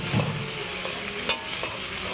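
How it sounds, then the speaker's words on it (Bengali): Prawns frying in hot oil, a soft steady sizzle up close with a few sharp spoon taps against the pan. "এবার তেলে দিয়ে দিলাম চিংড়ি মাছটা দিয়ে ভেজে নেব, সুন্দর করে ভেজে নেব"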